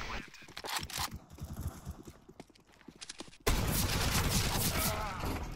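Video game gunfire: a run of sharp, rapid shots rattles through the first few seconds, then gives way to a loud, continuous roar of noise.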